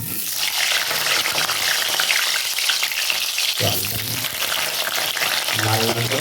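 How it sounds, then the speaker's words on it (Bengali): Potato pieces fry in hot oil with a loud, dense, continuous sizzle and crackle, close by and steady throughout, briefly shifting as the pieces are moved. "আলুটা আমি ভেজে নেব"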